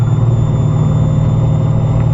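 Steady, loud engine drone of a car held around 3000 RPM with the windows down, a continuous low hum and rushing air filling the whole stretch without any voices.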